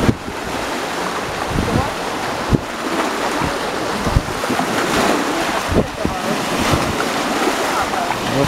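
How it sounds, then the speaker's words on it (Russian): Sea waves break and wash beside a small boat near islands in autumn, a loud churning surge rising and falling under gusty wind buffeting the microphone. "Вот такие сегодня волны."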